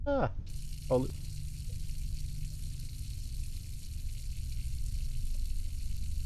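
A faucet runs wine in Layers of Fear, a steady close stream of pouring liquid that carries on throughout, with brief voice sounds at the start.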